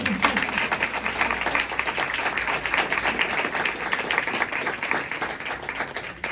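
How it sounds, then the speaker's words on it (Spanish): An audience at a design talk applauds steadily for several seconds, crisp close claps layered over a fuller crowd sound, with a brief voice at the very start. "Un aplauso."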